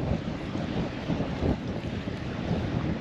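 Strong wind at a beach buffets the microphone in a constant low rumble, with gusts swelling and fading.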